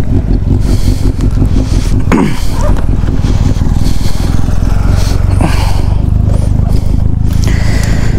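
An XR off-road motorcycle with burnt clutch plates runs continuously, producing a loud, close, rough engine drone with a constant mechanical rattle, and faint voices occasionally come through underneath.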